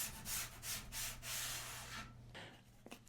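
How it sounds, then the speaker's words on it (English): Light hand sanding of edge banding edges and corners with 220 grit paper: rhythmic back-and-forth rubbing strokes, close and fairly soft, with no talking. "I also lightly sanded the edges and the corners."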